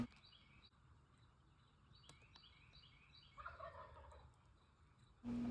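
A wild turkey gobbles close by during a spring hunt, with repeated rattling calls over quiet woodland ambience and a louder burst near the end.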